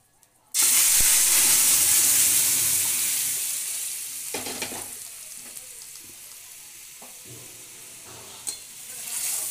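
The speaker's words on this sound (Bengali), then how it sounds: "এবার এটাকে আমরা প্রেসার কুকার থেকেই সরাসরি একদম কড়াইয়ের মধ্যে ঢেলে দেবো।" Cooked kalai dal is poured from a pressure cooker into a hot wok, setting off a loud sudden sizzle that slowly fades into quieter bubbling, with occasional clinks and scrapes of stirring.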